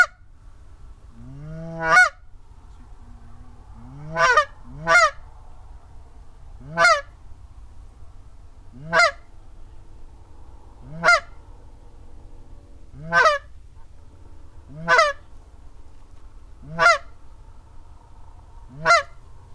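Geese honk as they fly in during a public land goose hunt, with about ten single honks spaced every couple of seconds, clear against a quiet low background hum.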